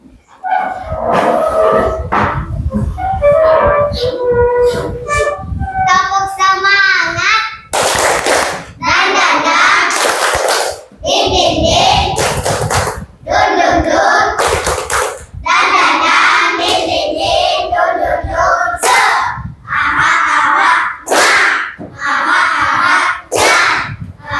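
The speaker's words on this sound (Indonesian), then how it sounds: "kita lakukan tepuk semangat" An Indonesian school class does the tepuk semangat spirit clap, led by one student at the front with the rest standing: loud, close bursts of rhythmic group clapping alternate with energetic chanting voices.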